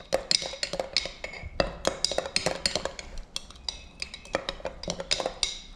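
Soft plastic lure mixture being stirred in a container, giving a run of irregular clinks and scrapes close by, steady and fairly busy, with no talk over it.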